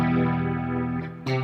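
Guitar played through a rotary effect pedal, a brief sustained chord with a swirling, wavering tone, followed by a sharp new strum near the end, loud and alone without talk.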